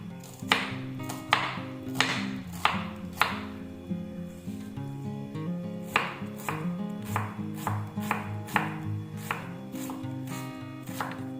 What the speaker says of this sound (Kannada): ಹಾಗೆಯೇ ಈರುಳ್ಳಿ ಕೂಡ ಸಣ್ಣದಾಗಿ ಹೆಚ್ಕೊಬೇಕು ಇದಕ್ಕೆ.